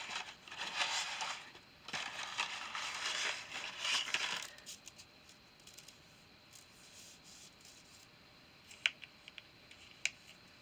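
Dry noodles are snapped with pliers in a camping or bushcraft setup, giving close crackling and rubbing for about four seconds, then quiet with two sharp isolated snaps near the end.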